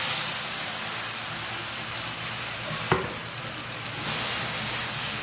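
Chile puree hits hot lard in a skillet with a loud, close, continuous sizzle and hiss, a sharp splattering pop near the middle and a fresh surge of sizzling toward the end, with no speech.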